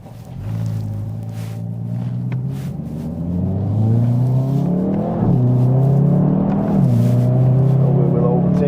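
A Hyundai i30N pulls out to overtake another car, its engine note climbing loudly through the gears with brief dips at upshifts, a close cabin rumble that keeps building throughout.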